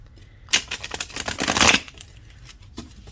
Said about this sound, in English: So what I do is I just shuffle them this way too, so they stay straight.